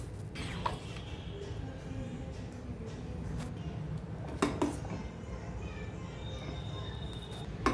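Thick sabudana mixture being stirred in a pan on a low flame, soft continuous scraping with occasional spoon knocks against the metal, close and fairly quiet beneath a constant low background hum.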